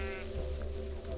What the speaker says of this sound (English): We found sheep paradise, apparently.